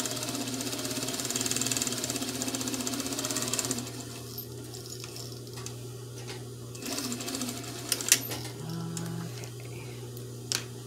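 Sewing machine driven by a loud clutch motor runs in a steady, buzzing whir with a constant motor hum, stopping partway and leaving the hum with a few faint clicks.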